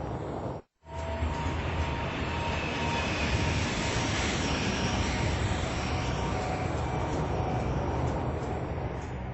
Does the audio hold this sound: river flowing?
no